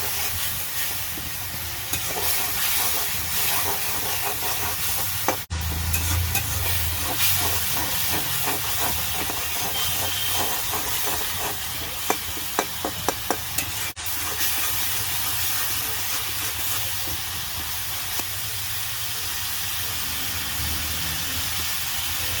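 Shutki bhuna, a dried fish curry, cooks in a lidded pan over a gas stove, giving a loud continuous steamy hiss and sizzle with faint rattling bubbles that runs without pause.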